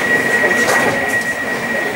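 Crossrail Class 345 train running on the line from Liverpool Street to Shenfield, a loud, steady interior rumble with a sustained whine that continues throughout.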